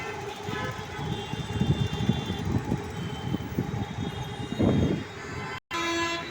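A Hyderabad metro train rumbling past with steady rolling noise, tonal whines and a chiming alert toward the end, while someone talks over it.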